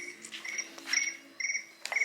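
Crickets chirp in short, repeated bursts, close by and fairly quiet, in a workshop setting during powder coat work, with no talk over them.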